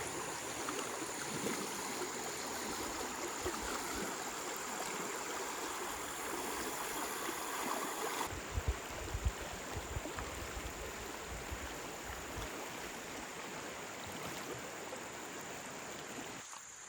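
A river flows steadily past a forest campsite, a constant rushing wash of water with no voices, staying even in loudness throughout.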